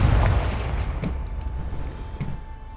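Confringo blasting spell from Hogwarts Legacy detonating with a loud opening boom, followed by a few softer thuds and a lingering low rumble, with no one talking.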